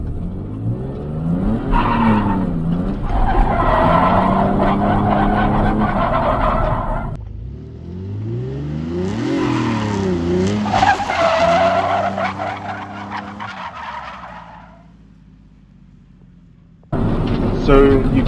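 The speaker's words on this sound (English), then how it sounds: "Let's do e-brake pull initiation." Beginner drift car doing an e-brake pull initiation, tires skidding and squealing in long loud bursts with engine revving between them, a brief lull near the end before the noise returns.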